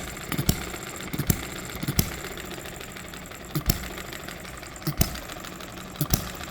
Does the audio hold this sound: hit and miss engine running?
yes